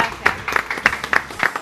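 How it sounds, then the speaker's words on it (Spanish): Scattered applause from a small studio audience for guests on a Peruvian TV cooking show about Spanish paella, a few distinct, close claps in an uneven rhythm, brief and moderately loud. "Un aplauso para nuestros invitados."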